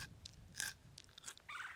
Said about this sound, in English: So I just kind of brush the sand off of this one and listen to this crunch.